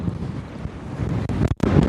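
Strong wind on a road near Lameroo, South Australia, buffets the microphone in heavy, gusty rumbles, loud and close, with a couple of sharp dropouts near the end.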